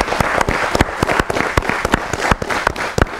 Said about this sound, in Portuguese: Uma salva de palmas ao engenheiro também pela sua contribuição.